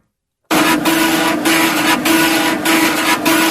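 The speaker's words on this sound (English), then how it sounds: "So that was when you had the old floppy disk, and it was reading the floppy disk." An old floppy disk drive reading a floppy disk, with loud continuous mechanical buzzing and a steady whine, broken by regular short stepping pulses as the head moves across the disk.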